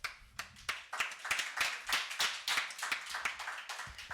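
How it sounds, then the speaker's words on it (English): Audience in a hall giving a round of applause, sparse and distinct hand claps in an uneven rhythm, fairly quiet and without speech. "Can we have a huge round of applause?"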